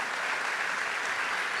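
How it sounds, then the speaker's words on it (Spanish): A church congregation breaks into strong, sustained applause, with dense, even clapping throughout and no voices on top. "Denle un aplauso al Rey bendito."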